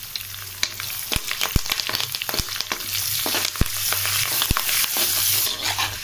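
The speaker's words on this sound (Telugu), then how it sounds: "ఆయిల్ వేడికిన తర్వాత వెల్లుల్లి రెమ్మలు వేసుకుందాం. వెల్లుల్లి కొంచెం వేగిన తర్వాత ఈ మిగిలిన పదార్థాలన్నీ కూడా వేసేసుకుందాం." Garlic cloves and tempering spices fry in hot oil, giving a steady close sizzle broken by sharp pops and crackles throughout, with no voices.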